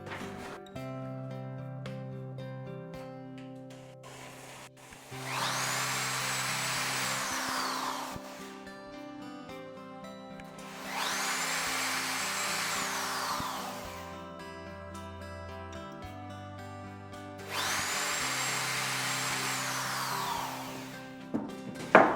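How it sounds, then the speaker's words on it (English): A power drill whirs in three separate bursts of several seconds each, drilling small pilot holes during furniture assembly, spinning up and winding down with quiet pauses between. "I'll just start with a pilot hole with a small one in each of these 3 locations"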